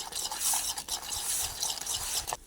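Dhokla batter is whisked in a bowl with a quick, wet swishing rhythm and a few soft utensil clinks, close and fairly loud, with no talking.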